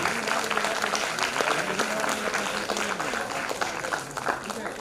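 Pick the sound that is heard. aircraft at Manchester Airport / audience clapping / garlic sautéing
audience clapping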